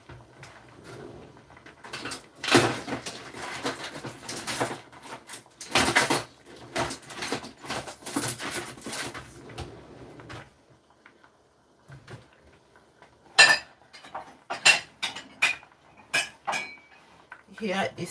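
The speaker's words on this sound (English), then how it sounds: "So I'm going to be straining the tea now." Dishes and cutlery clink and clatter in bursts while tea is strained into a cup, with a brief quiet stretch partway through before sharp metallic knocks and taps resume.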